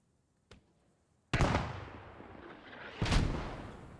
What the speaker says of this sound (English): And here come the Germans' mortars bombarding the point